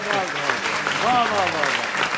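Studio audience applause on an Eid al-Adha special game show, steady and fairly loud throughout, with a voice talking over the clapping.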